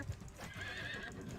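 Horse hooves clip-clop and a horse neighs during an arena fight in the video game Mount and Blade II: Bannerlord, up close and fairly quiet, with no talking over it.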